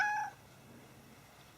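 A wet cat that has come in from the rain gives one short, bright meow at the very start, followed by near silence with faint room noise.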